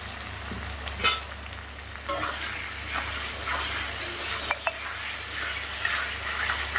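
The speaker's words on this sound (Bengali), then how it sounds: "আলুটা ভাজা হয়ে গেছে।" Potatoes fry in a pan with a steady broadband sizzle, punctuated by a few sharp scraping clicks from stirring.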